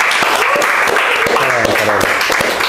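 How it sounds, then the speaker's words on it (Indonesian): Audience applause at a talk on mental health and self-discovery, a steady dense wash of clapping lasting a few seconds, with a voice speaking briefly over it near the end. "Tepuk tangan lagi"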